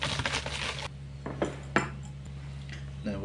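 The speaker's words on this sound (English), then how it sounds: "Mix it up again." Sweet lemon tart pastry ingredients being mixed in a bowl in a home kitchen, with soft scraping and light clinks of a utensil against the bowl, close and quiet.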